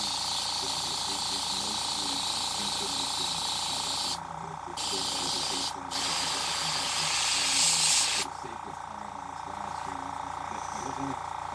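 Colour dye sprays in steady bursts from a sprayer angled along the side of a fishing bait, a broad bright hiss that pauses twice briefly and then drops to a softer, thinner spray.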